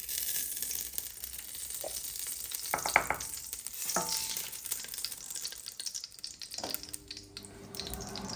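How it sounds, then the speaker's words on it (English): Palm oil heats in a pot for a Nigerian ikokore water yam porridge, giving a soft sizzle and crackle with a few stirring clinks and scrapes, fairly faint and close, no voices. "So the first thing I'm going to do is I'm going to put some palm oil in the"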